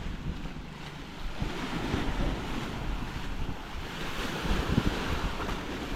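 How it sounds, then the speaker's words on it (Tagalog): Strong gusty typhoon wind roars steadily against the microphone, with rumbling buffeting and a wash like surf, swelling and easing in gusts across the whole stretch with no talk. "Pabugso-bugso po yung hangin."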